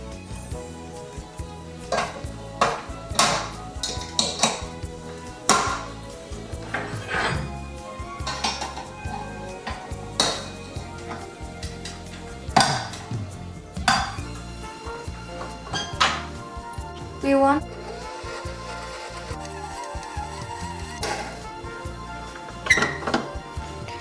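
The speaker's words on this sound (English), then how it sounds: "We are going to use the beater to mix up all of our ingredients." A beater mixing chocolate brownie cookie batter in a bowl, giving repeated close clattering knocks and scrapes against the bowl in an irregular rhythm, with no talking.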